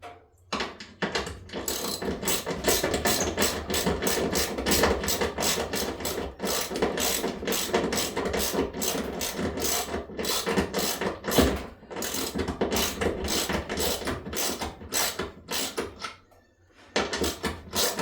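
A ratchet wrench tightening bolts on a pre-drilled plate in a workshop, rapid clicking pawl strokes in long bursts with short pauses between bolts, close and steady.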